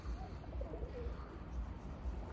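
Pigeons coo softly in a coop, faint low calls beneath steady wind-like rumble and background noise.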